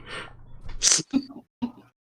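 A sharp, high burst like a sneeze, followed by a couple of short voiced sounds, with people chatting just before.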